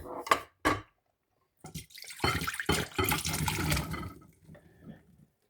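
Cooled cooking liquid from a chicken satay dish is poured into a bowl: a few short splashes, a pause, then a steadier, fuller pour that tapers off into light trickles, close by.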